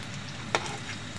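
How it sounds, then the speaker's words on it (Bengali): Chicken pakoras fry in oil with a soft continuous sizzle and one brief sharp crackle partway through. "আমি লাল লাল করে ভেজে নিব।"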